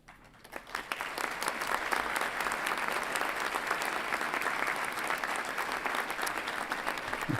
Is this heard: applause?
yes